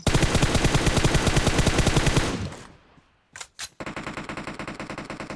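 Gunfire in PUBG Mobile rattles as loud rapid automatic bursts, one long sustained volley that fades out, a brief gap with two short bursts, then firing resumes.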